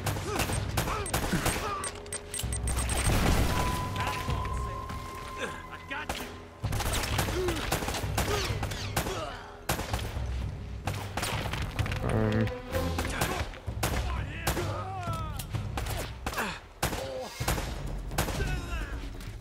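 Rapid shotgun blasts and gunfire from enemy soldiers in the Uncharted video game, loud and dense bursts repeating across the whole stretch with booming impacts, mixed with game effects.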